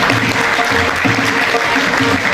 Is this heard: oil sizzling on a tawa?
no